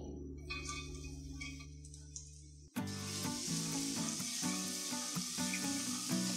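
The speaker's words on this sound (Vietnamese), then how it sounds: "Mình phi cho tỏi và hành tím vàng thơm lên" Minced garlic and shallots hit hot cooking oil in a pan, a quiet hum giving way to a sudden loud, steady sizzle of frying that carries on to the end.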